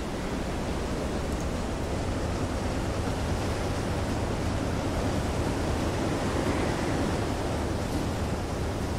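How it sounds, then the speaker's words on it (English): Ocean waves in the submarine simulation Silent Hunter 3, a dense, continuous roar of rough sea and wind, steady and loud from start to finish with no distinct breaks or voices. "Goddamn waves."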